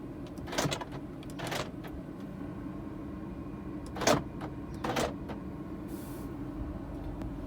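Central locking on a 2015 BMW 320i Sport (F30) actuates in a quiet cabin, giving a few short mechanical clunks, one stronger burst near the middle, over a low steady hum.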